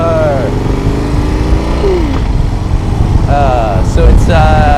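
Harley-Davidson Low Rider S motorcycle pulling away under power, its engine rising through rpm sweeps in a couple of smooth surges, heard over steady wind rush with someone talking over it.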